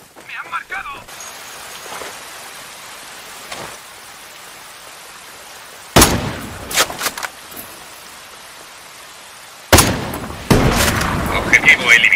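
Sparse, sharp bursts of gunfire from the video game Ghost Recon Breakpoint break a quiet ambient background, with a couple of louder volleys and clattering impacts later on.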